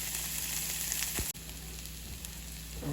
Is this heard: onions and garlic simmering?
yes